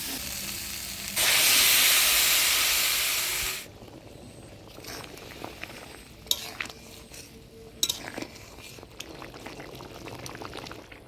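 Soybean chunks cooking in a pan with taro leaf paste and jackfruit seeds: a loud rushing sizzle bursts up for a couple of seconds, then dies down to quieter scraping stirs and occasional utensil clinks against the pan, with no voices.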